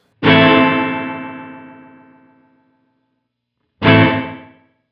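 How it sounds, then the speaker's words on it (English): Two strummed electric guitar chords through a Line 6 Helix spring reverb, each ringing out with a long reverb tail; the first decays slowly over about two seconds before the second strikes. "you can just hear that reverb kind of dwell more"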